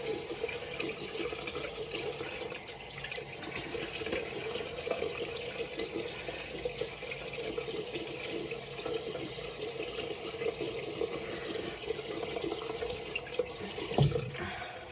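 Running water splashes steadily while hands scoop and rinse the face, a close, continuous wet wash with a brief louder splash near the end.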